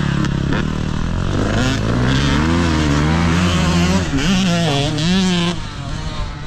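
Motocross bikes racing off the starting gate, a loud close pack of engines revving hard and rising in pitch together as they accelerate away.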